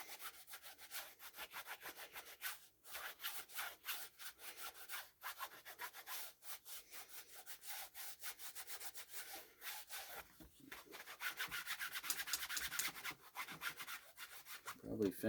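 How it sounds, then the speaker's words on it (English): Canvas cut from a military surplus army bag rubbed hard along the edge of a leather western holster to slick it, a steady close rasping friction in quick back-and-forth strokes, continuous and alone. "Just take a piece of canvas. This came off of a military surplus army bag. And I'm just going to rub that until I get a nice slick looking edge."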